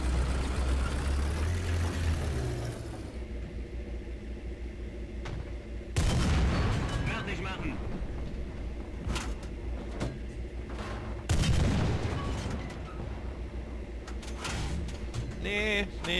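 Deep booming tank cannon shots in the video game War Thunder, three heavy blasts spaced several seconds apart over a steady rumbling engine drone, with someone talking throughout.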